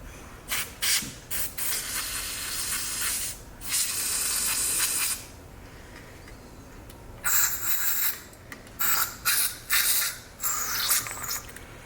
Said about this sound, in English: There's some carb spray.